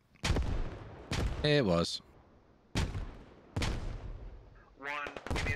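Gunfire in the video game Squad, sharp single shots and short bursts separated by pauses, loud and close, with a voice speaking briefly between them.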